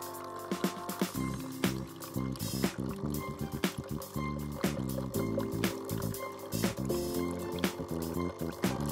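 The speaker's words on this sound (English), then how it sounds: "Mini-Me will start rinsing." A Dolce Gusto Mini Me coffee machine runs a rinse cycle with water, giving a steady close hum and pump drone dotted with irregular clicks and splashy liquid pulses throughout.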